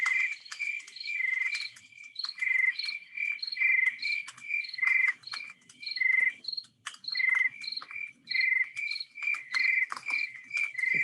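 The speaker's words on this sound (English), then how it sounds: "That's the crickets chirping there," Crickets chirping close and loud in rapid repeating bursts of high trills, pulsing steadily against an otherwise quiet background with no voices.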